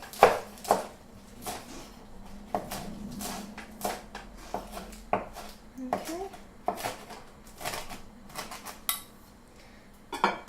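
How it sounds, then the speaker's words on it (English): Spinach is chopped with a knife on a board, irregular sharp thuds scattered through the clip alongside faint clinks of kitchen utensils, with some speech in the background. "No chef skills needed, I'm literally just going to randomly chop it."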